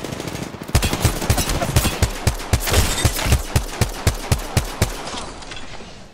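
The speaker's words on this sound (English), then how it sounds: "Listen up, I'm getting shot at." Rapid bursts of automatic gunfire in the Apex Legends battle royale game, a steady rhythm of sharp, loud shots repeating for several seconds over background game ambience.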